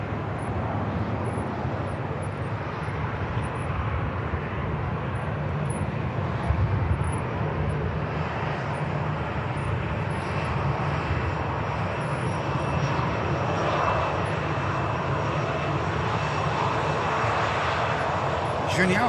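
A jet airliner engine roars steadily at Manchester Airport as the aircraft taxis on the runway, a loud continuous rumble and whine heard close by, with people talking over it.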